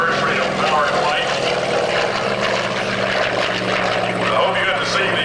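Vintage WWII propeller warbirds from a touring Planes of Fame group fly past at a 2003 airshow at Lunken, a steady loud engine drone filling the air while an announcer talks over it.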